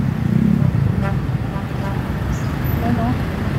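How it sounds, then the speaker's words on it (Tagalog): Dense road traffic backed up near a fire at Karangalan Village, cars and motorcycles rumbling close by with a brief horn toot, a voice talking over the noise. "Grabe mga kapapsi, grabe traffic."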